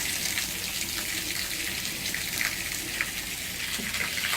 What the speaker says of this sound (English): If I turn this hose on